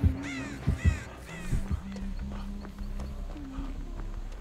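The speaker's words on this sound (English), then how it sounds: "rat bastard crows" Several harsh crow caws ring out in quick succession near the start, followed by a softer call later over a steady low ambient drone, in the video game Dead by Daylight.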